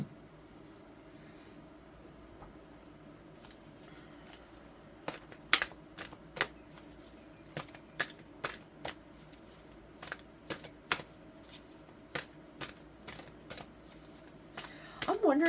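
A deck of cards is shuffled and cards are pulled out, giving a run of sharp, evenly spaced riffling snaps up close, with faint talk in the background.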